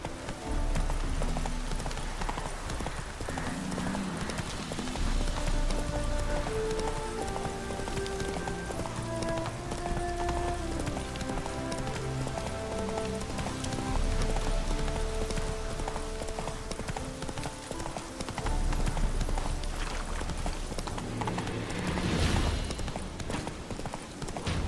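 Roach the horse from The Witcher 3 gallops with steady clip-clop hoofbeats over layered game music and ambient rain, the hooves continuous and fairly close throughout.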